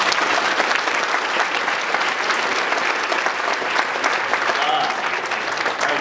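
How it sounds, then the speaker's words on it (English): A big round of applause at a children's church club awards ceremony, many hands clapping loudly and steadily for several seconds, with crowd murmur and a few voices mixed in. "Let's give one big round of applause."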